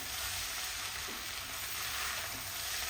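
Half-boiled rice being stir-fried for vegetable fried rice gives a steady, dense sizzle that holds evenly throughout, close and fairly loud, with no voices.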